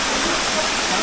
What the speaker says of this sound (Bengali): তো এই যে ঝর্ণাটা আপনারা দেখতে পাচ্ছেন আমার ঠিক পিছনে, তো এটা আসলে অনেক বড়, বা অনেক উপর থেকে পানি পড়তেছে